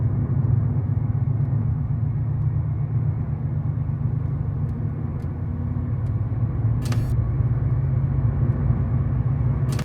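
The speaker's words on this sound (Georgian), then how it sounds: "ამ წუთას მივდივარ 100-ით და გავჩუმდი." Inside a budget family sedan cruising at 100 km/h, a constant low road and engine rumble fills the cabin, joined by a brief faint rattle near the end, with no voices.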